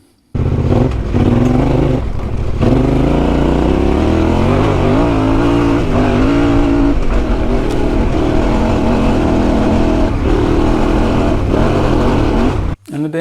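A Yamaha Tenere 700 with its CP2 engine, which has trouble revving past 6,000 RPM, climbs a hill under hard throttle; a loud, continuous close-up engine roar with rising and falling pitch, briefly dipping near the start and then cutting off at the end.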